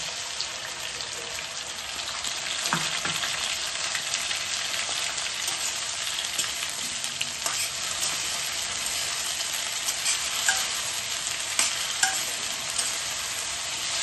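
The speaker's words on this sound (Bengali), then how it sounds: "আর আদা বাটাটা দিয়ে ভালো করে কষিয়ে নেব যতক্ষণ না কাঁচা গন্ধ যায়" Ginger paste frying in a pan for a dalia-and-oats vegetable khichuri, a steady close sizzle with occasional scraping stir sounds and small pops throughout.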